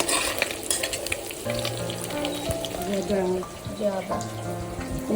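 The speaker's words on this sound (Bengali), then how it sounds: "এগুলোকেও আস্তে আস্তে এপাশ ওপাশ করে উল্টো পাল্টে ভেজে তুলে নেব একই রকম ভাবে" Tangra fish sizzle and crackle in hot oil as they are turned over piece by piece, with scraping and stirring clatter throughout a close, busy frying sound.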